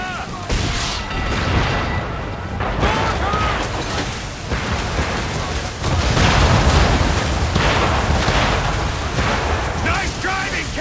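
Mortar explosions in Assassin's Creed III, repeated booming blasts and rumbling bursts at close range, dense and loud throughout with battle noise.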